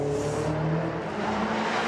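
A car engine is pulling away under steady throttle, its low, continuous drone holding close and loud with no voices over it. The car is a luxury model suspected of being stolen and shipped on to Tajikistan.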